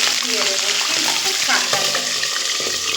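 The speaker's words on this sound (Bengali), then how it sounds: "দেখুন তেল কিন্তু গরম হয়ে গেছে আর গ্যাসের জোর একটু লোতে করে দেব আর যে চিকেন আমি ভিনিগার আর লবণ মাখিয়ে রেখেছি দেবো" Chicken marinated in vinegar and salt frying in hot oil over lowered gas for Malabar chicken, giving a steady close sizzle and hiss with a voice faintly heard in the background.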